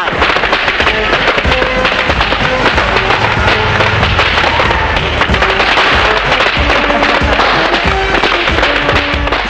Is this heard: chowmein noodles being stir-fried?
no